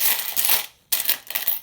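Coins, including an Argentine 20 centavos, drop and clatter onto a hard surface in two close bursts of bright metallic jingling separated by a brief silence.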